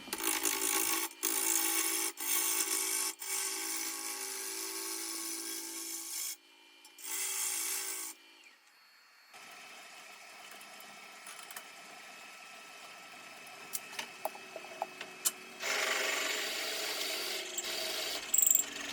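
A lathe tool on a Oneway hollowing system scrapes and rasps steadily against spinning side-grain wood, cutting with the grain, pausing briefly midway before the cutting resumes at a softer level.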